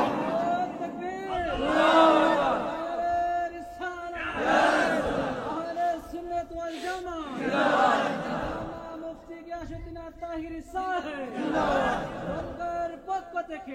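Large crowd at a Bangla Islamic religious gathering in Habiganj shouting slogans in unison, loud rhythmic call-and-response bursts recurring about every three seconds, with a lead voice over the massed shouting.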